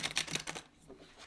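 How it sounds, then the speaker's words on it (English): A Moonology Manifestation oracle deck is shuffled by hand, giving a few soft, quick riffling bursts of card edges, close and quiet, that fade into near silence. "let's give them a shuffle"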